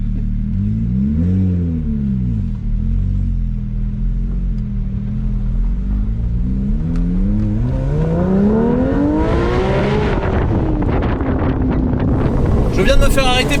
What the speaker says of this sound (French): Je fais une accélération jusqu'à 80 puis je m'en vais.